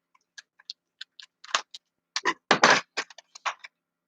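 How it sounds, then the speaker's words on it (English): A knife cutting cheese into roughly quarter-inch slices for Monte Cristo sandwiches: a series of sharp, close clicks and cracks, sparse at first and then bunching into quicker, louder cuts. "using a knife, I'm going to carefully cut some cheese"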